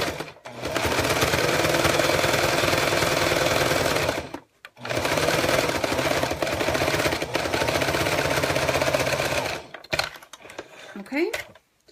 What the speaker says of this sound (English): I put my 1/4 inch foot back on, and I'm just going to sew along the bottom here.